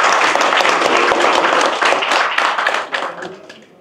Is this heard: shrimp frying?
no